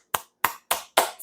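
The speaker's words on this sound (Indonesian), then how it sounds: "Kita berikan tepuk tangan buat Tuhan Yesus" A church congregation applauds in four sharp, evenly spaced claps struck together, each crisp and close with a short tail and silence between.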